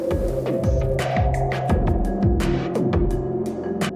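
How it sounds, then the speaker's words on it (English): Percussive hits pass through United Plugins Muramasa MorphVerb, trailing a floaty, smeared reverb wash with sliding tonal tails and lingering hum between sharp transients, repeating steadily and heard alone. "that's creating a much more floaty reverb"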